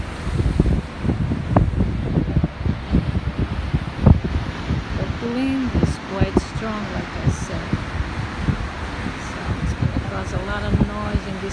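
Strong wind buffets the microphone on a winter beach in the Algarve, a constant low roaring rumble with gusty bursts, while a few faint voices can be heard in the background.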